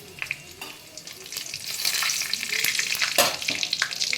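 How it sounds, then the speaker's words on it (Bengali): Whole cumin, black peppercorns, whole garam masala, a dried red chilli and bay leaf frying in hot oil as a tempering for a vegetarian Hyderabadi paneer dish, a steady close sizzle that swells, with a few sharp pops and crackles. "ফোড়নটা কয়েক সেকেন্ড ভাজা ভাজা হোক"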